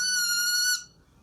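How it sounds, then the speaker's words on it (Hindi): A person whistles one steady, sustained high note at close range during a Class 12 biology lecture. It carries alone for about three-quarters of a second, then stops abruptly. "सीटी मार रहा है जी, मारकर।"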